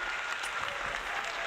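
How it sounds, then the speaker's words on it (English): A live retro gaming stream audience claps in steady, dense applause for the whole short stretch, with no voices over it. "Give them a round of applause, Fitzy."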